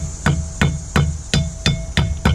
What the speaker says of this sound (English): And we're going to tap our seal back in.